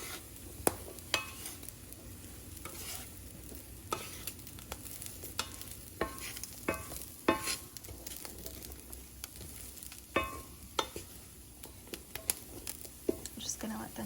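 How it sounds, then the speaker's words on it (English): Seasoned chickpeas fry in a pan until crisp, giving a steady low sizzle broken by sharp clicks of stirring and scraping, with soft talk at times. "we're just cooking them for about a minute or so more until they are crisp"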